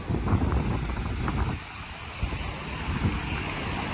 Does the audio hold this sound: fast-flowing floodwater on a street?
yes